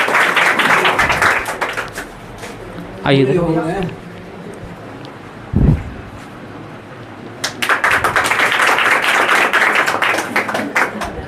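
Audience clapping at a school award ceremony for a class 10th or 12th student, heard as two bursts of dense, fairly close applause at the start and end, with someone speaking briefly in the quieter stretch between.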